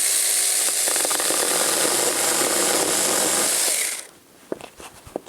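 A cheap battery mini chainsaw rips through a 1x8 wooden board, a loud steady buzzing whine for about four seconds that cuts off abruptly, followed by a few light clatters.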